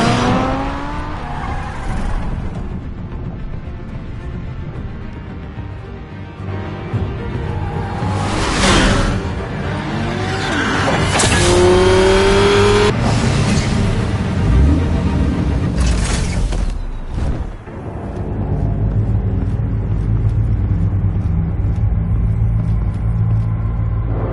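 A car driving in the Batman The Telltale Series game, engine surging and revving with whooshing passes and tire squeal, loud and close for most of the stretch.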